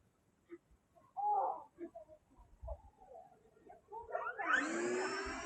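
An E-Flite Air Tractor RC airplane on floats flies at a distance, its electric motor faint at first, then throttling up into a rising, steady whine that holds to the end.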